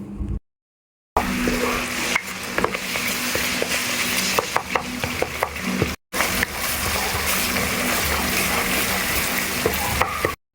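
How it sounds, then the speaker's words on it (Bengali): Chili, turmeric and coriander masala stirred and fried in a pan, a steady broadband sizzle with repeated scraping strokes, close and continuous apart from two short silent breaks. "এ পর্যায়ে আমি মশলাটাকে খুবই ভালোভাবে নেড়ে চেড়ে একসাথে কষিয়ে নিব।"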